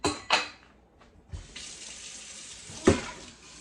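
Tap water from a private well splashing into a cooking pot at a kitchen sink, with a couple of short clanks and gushes before a steady, close stream of running water.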